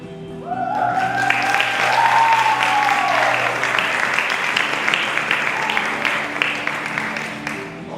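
An audience at an international festival applauds the fashion show participants, a broad wash of many hands clapping that swells quickly and holds steady for several seconds, with faint tonal music lingering underneath.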